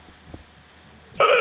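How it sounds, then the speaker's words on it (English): One sharp, loud hiccup bursts out near the end after a stretch of quiet room tone. "That sounded like a painful hiccup."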